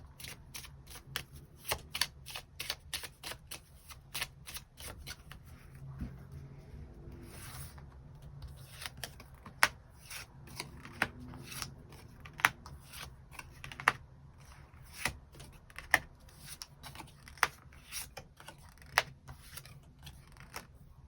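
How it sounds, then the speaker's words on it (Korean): Tarot cards are shuffled and then drawn one by one, a quiet close-up of soft riffling followed by a steady series of crisp individual card snaps and slides at irregular intervals. "그럼 3번 분들 추가 카드로 일별로 월요일부터 일요일까지 어떤 하루하루를 보내게 될지 추가 카드 뽑아보도록 하겠습니다."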